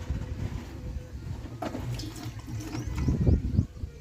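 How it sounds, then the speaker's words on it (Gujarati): Water is poured into a kitchen mixer jar holding grapes for a grape and jaggery bio-enzyme, a close, splashy liquid sound that swells and grows louder toward the end. "આ જે મિક્સર છે એમાં આ જે પાણી સાથે જ આપણે દ્રાક્ષને આમાં ઉમેરવાની છે"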